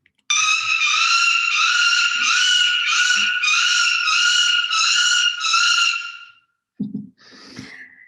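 A peregrine falcon fledgling gives a long series of shrill, harsh wailing cries, about eight in quick succession, followed by a brief rustle and a softer call.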